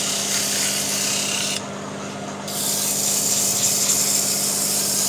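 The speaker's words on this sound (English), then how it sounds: "use the paperboard to do the actual sanding" Steady, close-up scratchy sanding of a jarrah wooden barrel cup with paperboard, rubbing continuously with a brief softer dip partway through before picking back up.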